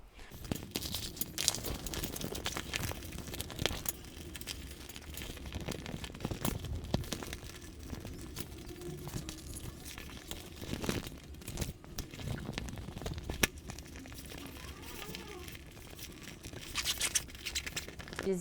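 A sewn synthetic leather travel organizer is turned right side out by hand. It gives continuous close crinkling, scratching and rustling, with sharper crackles scattered across a long stretch and no talk.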